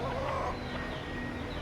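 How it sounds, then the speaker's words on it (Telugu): Ordinary chickens, including black-and-white birds, cluck at an animal market in Kuwait, their short calls rising out of a dense, constant bed of market noise. "ఇవి కూడా మన పక్క దొరికే మామూలు కోళ్ళే."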